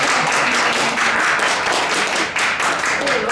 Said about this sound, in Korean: 조경엽 실장님께 감사하다는 말씀과 함께 박수 한번 드리겠습니다